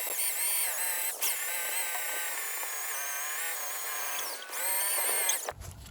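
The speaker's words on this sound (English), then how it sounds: "You hook it to a drill and you should be able to just clean all this up" A steady high-pitched whine of a drill spinning a rubber decal eraser wheel against a vehicle surface to remove factory decals, continuous and close, with a brief stop near the end.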